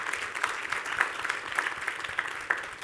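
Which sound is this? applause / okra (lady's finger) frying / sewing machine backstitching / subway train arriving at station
applause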